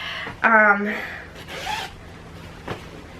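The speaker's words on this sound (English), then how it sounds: "you put the baby in there and like zip them up" A quick zipper pull rasps up close as a baby sleep swaddle is zipped, followed by a softer second zip and a faint rustle, with a brief voice-like sound near the start.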